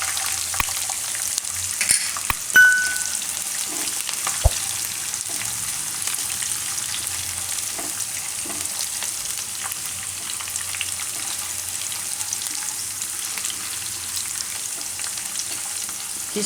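Green chilies and raisins fry in hot oil for pava (poha), a soft continuous sizzle at low volume with a few sharp clicks of stirring scattered through it.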